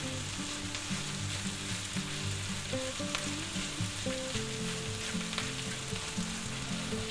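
Onions and peppers frying in a pan: a continuous even sizzle with faint crackles and some low hum beneath, moderately quiet and close, no voices.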